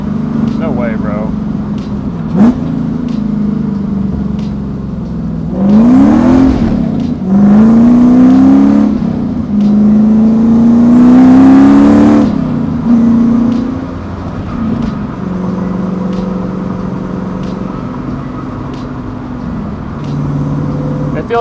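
Supercharged 1UZ V8 drift truck revs hard through several rising surges while drifting, loud and close, then settles to a lower engine note; a person talks over parts of it.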